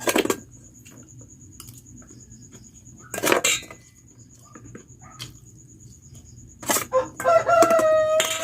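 A rooster crows and clucks in short bursts near a meal setting, with a faint steady high tone and occasional clinks of dishes in between, ending in a louder drawn-out call.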